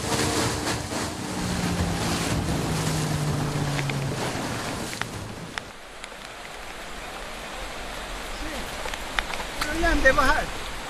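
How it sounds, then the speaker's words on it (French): A dugout canoe descends the swollen Rio Santiago in Ecuador under pouring rain, with steady hissing rain and rushing water, and a low motor hum in the first half. "La descente de l'impressionnant Rio Santiago en pirogue, sous une pluie battante et grossie par le Rio Zamora, nécessitera 2 allers-retours."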